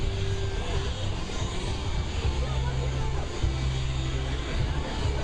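A C-17 transport jet makes a low, slow pass and circles over McChord Field at an airshow, its engines producing a steady, loud roar with a deep rumble that holds throughout.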